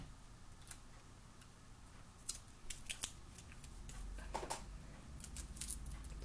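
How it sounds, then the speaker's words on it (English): Scissors snip through small pieces of tape during a paper craft project, giving a few soft, crisp cuts and light clicks that cluster in the middle and end of a quiet stretch, with no talking. "You just have to cut the tape pretty small. Like this, with scissors."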